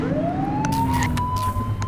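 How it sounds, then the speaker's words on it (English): A police car siren in the video game The Precinct, a rising wail that sweeps upward and holds, sounding loud and close with engine rumble underneath and no talk. "Get behind them and flip the siren to make them pull over."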